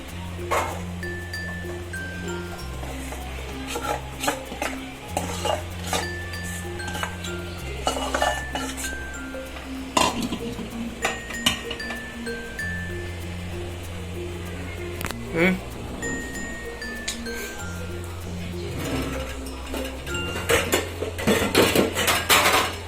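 Dhokla batter goes into a hot metal plate on the stove, with metal utensils and dishes clinking and scraping repeatedly while a person talks throughout over a steady kitchen hum.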